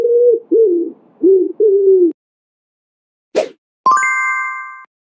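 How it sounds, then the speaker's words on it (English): A pigeon's soft cooing for kids comes as four smooth, low, evenly spaced coos, loud and close, followed by a pause and then a brief plop and a ringing tone. "Pigeon."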